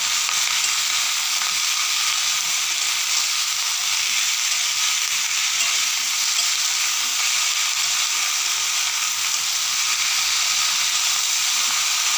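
Mixed vegetables for a three-vegetable dish fry in a pan while being stirred with salt, giving a continuous, even hiss that stays steady and fairly loud throughout, with no speech.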